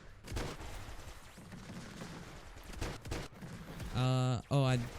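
Shotgun blasts in a video game firefight: several sharp bursts and impacts under ongoing gameplay noise, with a loud tonal sound near the end.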